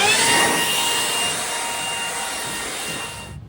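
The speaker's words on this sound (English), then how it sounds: "The blower." An air blower hisses in a strong, steady rush as it clears dust from a scuffed Volkswagen Beetle floor pan, easing slightly before cutting off abruptly at the end.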